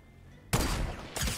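A sniper rifle fires in Fortnite: two sharp, loud shots about half a second apart, each with a quick blast and short decaying tail against quiet game ambience.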